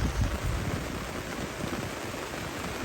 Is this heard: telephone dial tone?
no